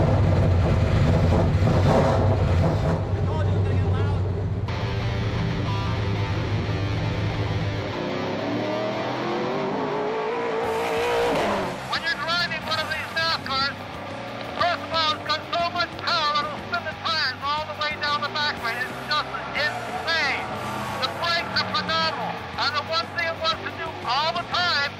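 A NASCAR Canadian Tire Series Ford Fusion stock car engine starts and runs loud and close, a rough idle rising into a steady roar with sharp revving bursts, while people talk nearby.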